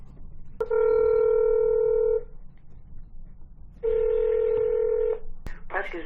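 Touch-tone phone dialing for a call to a county prosecutor's office, two long stretches of loud steady tones separated by quiet, with a brief click and a faint voice near the end.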